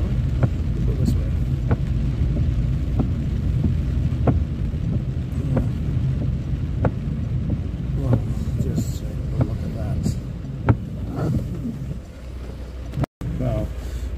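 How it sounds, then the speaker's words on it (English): Heavy rain pelting down on a car while driving around town in Leigh, a steady dense wash with scattered sharp drop hits throughout, loud and continuous, with a brief dropout near the end. "can see the rain is really coming down now"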